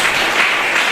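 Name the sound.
church congregation applause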